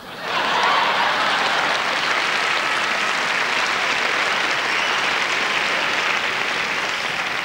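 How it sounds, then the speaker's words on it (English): Dense, loud, sustained audience applause at an awards show, a thick wash of clapping that swells in quickly and holds steady without voices. "we applaud you."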